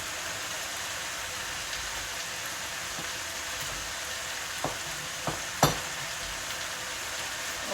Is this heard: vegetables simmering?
yes